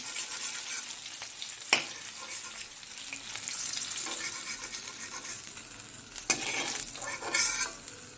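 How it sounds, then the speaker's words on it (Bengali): Hilsa fish heads fry in oil with a steady, soft sizzle and stirring, broken by a couple of sharp clinks of a utensil on the pan. "ইলিশ মাছের মাথাগুলো ভালো করে ভাজা হয়ে গেছে"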